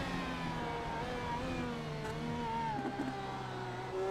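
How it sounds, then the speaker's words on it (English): A race car's engine note sweeps through a tight downhill hairpin and chicane on a racing circuit, with a steady loud drone whose pitch falls and rises as it brakes and accelerates, and no talk over it. "Just listen to the engine note through this corner."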